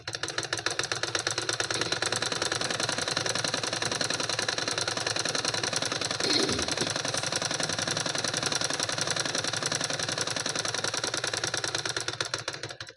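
A sewing machine stitching the lining of a cotton blouse runs in a fast, steady mechanical rhythm for the whole stretch, close and even, with no talk over it.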